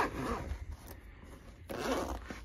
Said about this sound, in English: Let me zip that up.